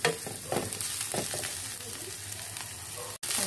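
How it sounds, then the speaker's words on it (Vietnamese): Mushrooms stir-fried with golden fried garlic for a chicken vegetable soup, a steady close sizzle with scraping stirs every half second or so, alone with no talk. "Tỏi nó vàng rồi mình cho nấm vào. Mình xào lên."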